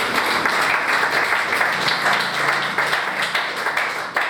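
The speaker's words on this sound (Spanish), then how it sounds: "Le damos un aplauso fuerte a Cristo" A church congregation at a Sunday service claps loudly and continuously, dense applause with sharper individual claps standing out.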